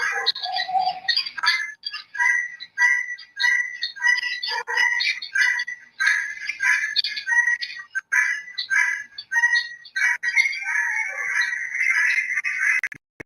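Chickens and a rooster cluck and squawk steadily close by, a busy chorus of bird calls with clicking and scratching underneath.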